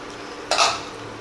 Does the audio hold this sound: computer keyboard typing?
no